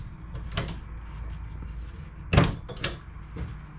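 Overhead storage cupboard doors inside a 2021 Flagstaff Super Lite 528 IKWS fifth wheel travel trailer with plywood cabinetry, opened and shut, giving a few close, sharp knocks and clunks, the loudest near the middle.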